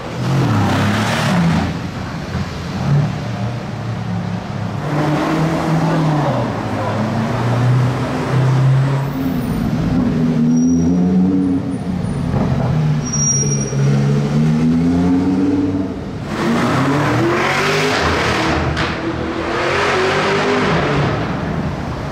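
A Porsche with a De La Villa kit revving outdoors, a loud droning engine note that rises and falls in repeated sweeps, dips, then swells again, with faint voices in the background.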